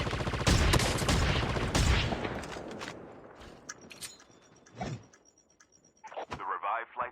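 Gunfire from a shooter video game, with a shotgun and sniper in use. A rapid burst of loud shots comes first, then scattered shots, faint footsteps and game sounds as the firing fades, with a short voice near the end.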